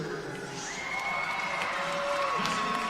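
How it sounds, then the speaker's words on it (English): A crowd at a girls' 1A basketball championship game, Tabiona versus Panguitch, cheers and shouts steadily throughout, a dense roar of voices with whoops, moderately loud and sustained. "They have got a great crowd here for tonight."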